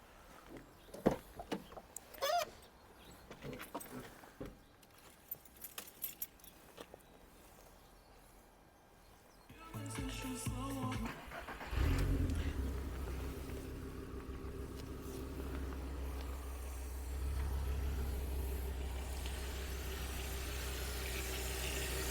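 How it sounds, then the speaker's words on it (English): A VW Golf Mk4 with the V5 engine cranks and starts after an oil and filter change, settling into a steady low idle rumble, preceded by scattered clunks and handling noises nearby. "Start her up, let the oil get around the engine"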